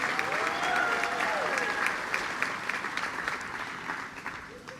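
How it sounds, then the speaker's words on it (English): Sustained audience applause at a Deerfield Beach State of the City address in 2023, a steady wash of many hands clapping that slowly thins out, with a faint voice speaking through it. "Let's please give them a big round of applause for their work to keep arts and culture alive in Deerfield Beach."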